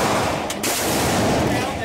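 A single loud, close gunshot from a .45 Long Colt revolver, a Cattleman model, cracks sharply and then fades into a brief echoing decay.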